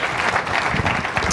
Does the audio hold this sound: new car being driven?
no